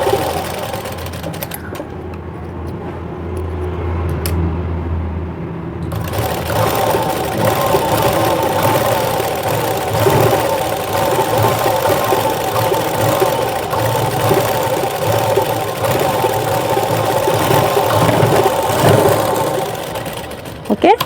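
An electric sewing machine stitches a blouse hem, its motor whirring steadily and fairly loud for most of the stretch after a brief quieter start, with a voice talking over it.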